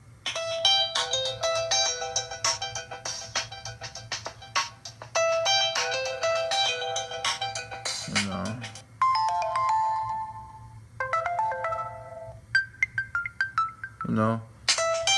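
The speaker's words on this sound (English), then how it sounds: "let me give you some examples of the sound with the ringtones that they come with" A Microsoft Lumia 640 smartphone plays a series of its built-in ringtones one after another, each a bright, melodic, short chiming tune with brief gaps and changes between them.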